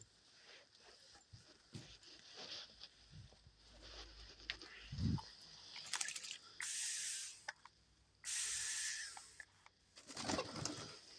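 Pet dove bathing and being misted with a spray bottle: several short hissing spray bursts, soft splashing and fluttering, and faint low sounds between, fairly close and quiet.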